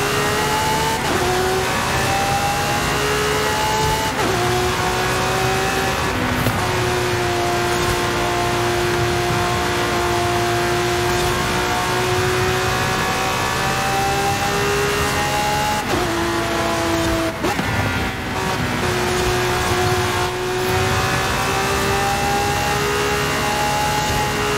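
Cars in a Forza Horizon 5 street race rev loudly and continuously, with engine pitch rising and falling through gear shifts, close-up and with no talking.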